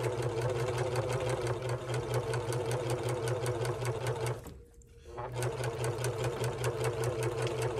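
A serger stitches and trims the edge of a fabric scrap dish mat with a close, steady rapid clatter and low motor drone that stops for under a second midway, then resumes.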